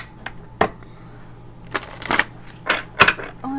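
Large oracle cards being handled and shuffled up close, with several soft papery rustles and sharp riffling bursts spaced irregularly over a quiet background.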